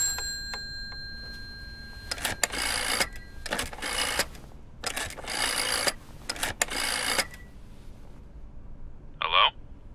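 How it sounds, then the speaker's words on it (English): A telephone being dialed in the horror game Layers of Fear: a few faint tones, then several bursts of rapid clicking from the rotary dial turning and returning, ending in a short ring-like chirp, quiet room otherwise. "Might as well make some good use of the phone while I'm here."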